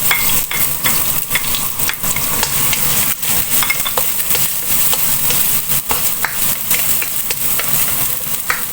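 Ginger sautés in a hot pan, a constant crackling sizzle of oil broken by sharp clicks and scrapes of a utensil stirring, close and continuous with no voices.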